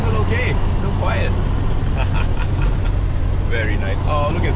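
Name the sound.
car engine running while driving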